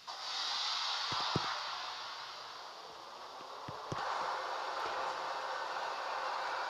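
A video game train rolls along with a steady hiss and rushing noise, punctuated by a few faint clicks and knocks, fairly quiet and with no talking.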